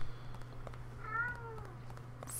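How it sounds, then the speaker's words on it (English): Pet cat Lulu lets out a single drawn-out meow at mid-distance over a low steady hum, faint but clear, with no talking. "Don't meow at me, Lulu."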